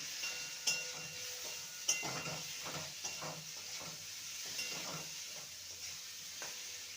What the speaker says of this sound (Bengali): পেঁপেগুলোকে ভেজে নিয়েছি